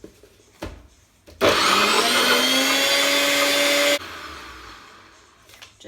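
A blender blending mint and coriander chutney whirs loudly for a few seconds, starting abruptly, its motor pitch rising slightly as it runs, then cutting off sharply; quiet clatter before and after.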